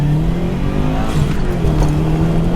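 A 2012 Subaru WRX with a Grimspeed intake idles and revs steadily nearby, a close, continuous engine drone with mild rises in pitch and no talking.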